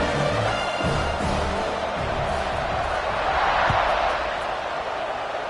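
A football stadium crowd at kickoff roars in a steady, dense wash of cheering and shouting, loud and sustained throughout, with a commentator's voice faintly underneath.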